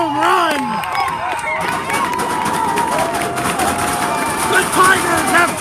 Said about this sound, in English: the crowd going crazy